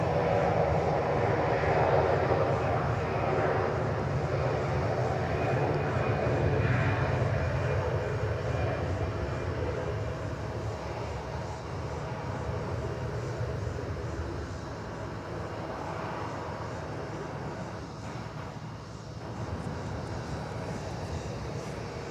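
Loud jet engines roaring steadily from a nearby Qatar Airbus A350-1000 at DFW airport, a sustained low rumble and whine that eases slightly toward the end.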